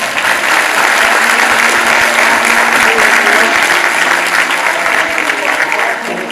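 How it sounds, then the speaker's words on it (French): A crowd at a judo demonstration gives loud, sustained applause, a dense wash of clapping that holds steady and fades slightly at the end. "On peut les applaudir."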